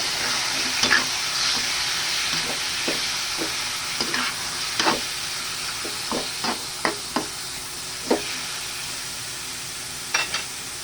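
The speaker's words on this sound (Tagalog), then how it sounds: "Halo lang muna natin." Pork and sweet potato fry in a pan with a soft, constant sizzle. A spatula scrapes through them in irregular stirring strokes, each one close and distinct, with no talking.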